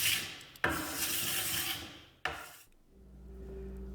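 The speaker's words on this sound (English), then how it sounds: "that's more than enough just to be able to apply and rub down paste waxes" Paste wax is rubbed onto waxless cross-country skis in two close, brisk scrubbing strokes with a rasping sound, each starting abruptly, followed by a quiet low hum.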